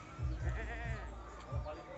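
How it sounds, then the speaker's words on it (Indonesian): Large male Javanese goat, due for slaughter as a sacrificial animal, bleating in wavering, repeated calls close by, over low, thumping background noise. "Kambing jantan"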